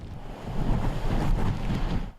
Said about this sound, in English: Larger waves crashed into the cliffside